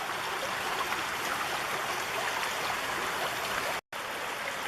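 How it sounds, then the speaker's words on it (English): Steady rushing of the Indian River along a bank on a Sitka, Alaska trail, a close, continuous flow of water that cuts out for a moment just before the end. "More and more water heads this way every year on this side."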